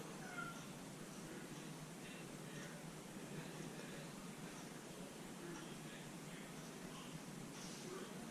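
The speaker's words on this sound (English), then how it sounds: "Seems as though my cat is wanting in my room," A house cat meows to be let into a room, faint and somewhat distant cries recurring several times over a quiet hiss of room noise.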